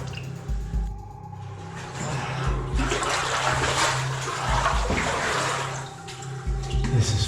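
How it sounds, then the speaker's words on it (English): A caver wades into very cold, low cave water, with sloshing and splashing in steady surges that stay fairly close and continuous and carry a gurgling, dripping quality, and no talk. "it's just me going into this really cold water"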